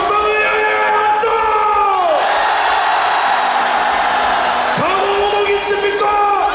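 Large crowd at a rally opposing the presidential impeachment in Gwangju, South Korea, shouting and cheering in loud sustained roars with whoops and yells, swelling in two waves.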